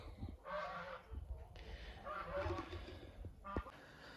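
Several loud goose honks in bursts, close by, with brief pauses between calls and a sharper final honk near the end.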